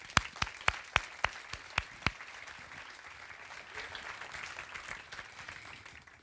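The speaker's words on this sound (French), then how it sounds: "de l'applaudir." A conference audience at a digital-technology event opens with several loud, sharp claps at a steady rhythm, then settles into softer, sustained applause from the room that continues to the end.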